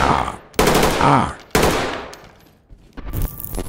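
Rifle gunfire from the tactical shooter game Ready Or Not during a hospital raid: three loud, close bursts of rapid shots separated by brief pauses.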